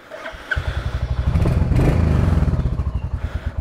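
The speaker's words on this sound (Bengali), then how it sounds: "বাইক স্টার্ট করি" A motorcycle engine kicks into life with a thump and settles into a loud, close, pulsing idle.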